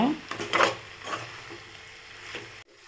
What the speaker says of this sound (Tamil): எல்லா மசாலாவும் சேர்த்து நல்லா இந்த மாதிரி வதக்கிக்கோங்க